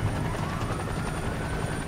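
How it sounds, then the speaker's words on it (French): A police helicopter's steady rotor thrum and engine whine drone continuously at a moderate distance, with no voices. "Il y a notamment un hélicoptère de la police."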